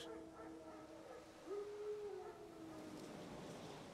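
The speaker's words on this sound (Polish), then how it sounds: "Dzikie psy." Wild dogs howl in The Witcher 3: Wild Hunt: a rising, sustained howl swells in the middle, over a low ambient bed and fainter overlapping yelps.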